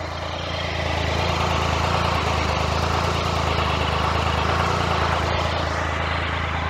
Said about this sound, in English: I love to listen to the motor and not the exhaust